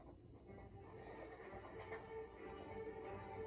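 Horses whinny and snort in a TV drama scene, a faint, distant cluster of neighing calls over steady background rumble, with no speech.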